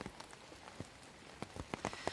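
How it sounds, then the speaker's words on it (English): Steady rain falls during heavy flooding in Gippsland, a soft continuous patter with a few sharper nearby drop hits scattered through it, fairly faint and with no voices. "as you can see, it is still raining"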